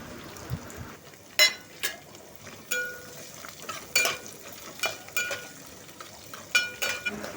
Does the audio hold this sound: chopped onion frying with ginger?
yes